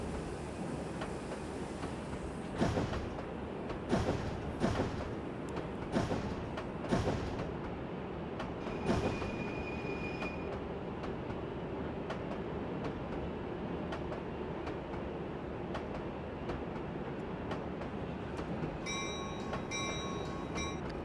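Passenger train of Amfleet and Comet V cars rolling along the snowy Bayport Branch in a train simulator game, a steady rumble of wheels on rails with a series of sharp clacks from rail joints early on and a brief chime near the end.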